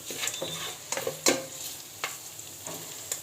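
Bitter gourd frying in a pan is stirred, giving quiet sizzling under a handful of sharp utensil scrapes and clicks spread across the moment, with no talk.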